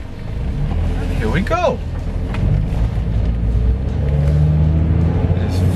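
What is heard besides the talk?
Honda car test drive with automatic gearbox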